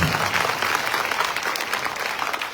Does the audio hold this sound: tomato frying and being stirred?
no